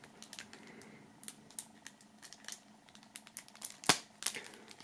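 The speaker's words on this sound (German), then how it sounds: "So, das werden wir auch mal aus der Folie holen." Plastic shrink-wrap foil being peeled and torn off a boxed mixtape: scattered crinkling and rustling with soft crackles, one sharp louder rip near the end, close and clear with no talking.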